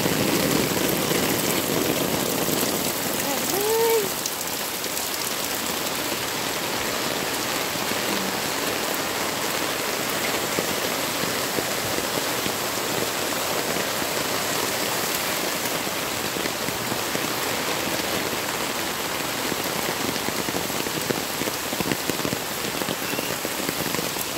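Heavy rain pours down steadily for the full stretch, a dense, loud, unbroken hiss of drops on surfaces with no pauses, after nearly an hour of downpour.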